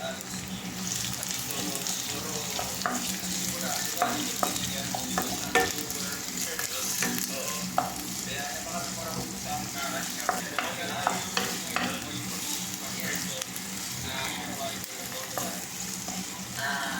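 Onions frying in a pan for Visayan-style egg noodles, a steady close sizzle with intermittent clicks and scrapes of stirring throughout.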